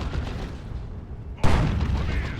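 A Space Marine plasma cannon fires once in Warhammer 40,000: Dawn of War 2, a sudden loud blast with a broad crackling tail over steady battlefield rumble.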